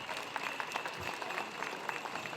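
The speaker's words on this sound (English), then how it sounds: "Let's give her a round of applause." An audience at a Lumbee Days cultural presentation gives a round of applause. Steady, fairly faint clapping from a crowd fills the short stretch at an even level with no talk over it.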